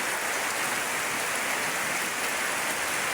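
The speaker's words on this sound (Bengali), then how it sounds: "অনেক স্পিডে নামতেছে বৃষ্টির স্পিডটা কিন্তু অনেক বেশি পাইতেছি" Heavy rain pours down fast in a dense, constant hiss that stays loud and unbroken throughout, with no voices over it.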